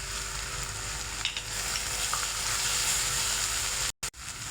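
Cumin seeds frying in oil with an onion, garlic and ginger paste, a steady close hiss of sizzling that runs unbroken before a brief dropout near the end.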